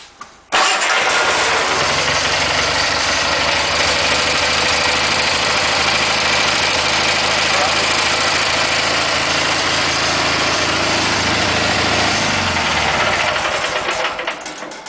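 A Kohler small engine, running on a vacuum pump converted from a mechanical fuel pump, starts abruptly and settles into a loud, steady, close-up run. It keeps an even drone for the whole stretch, with no talking.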